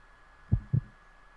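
A single lub-dub heartbeat from the video game Resident Evil: Code Veronica X, two deep, muffled thumps in quick succession, close and fairly loud over a faint steady background hum, with no voices.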